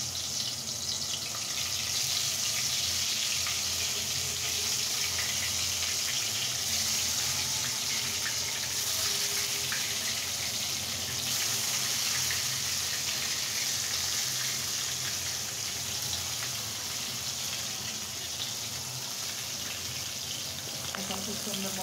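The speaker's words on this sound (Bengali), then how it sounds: "এখন খুব সুন্দর মতো করে এটা ভেজে নেব" Eggplant slices for begun bhaja frying in hot oil, a steady dense sizzle that holds at an even level for the whole stretch, close and loud.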